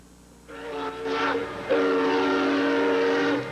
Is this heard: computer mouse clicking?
no